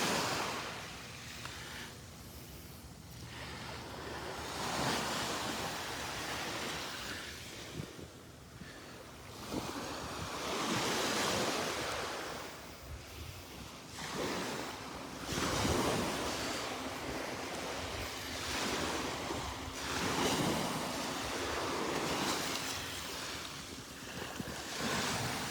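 Ocean waves wash in and break on the beach at Delnor-Wiggins on a Wednesday morning, with a continuous rolling surf roar that swells and recedes in repeated surges, plus wind buffeting the microphone and no voices.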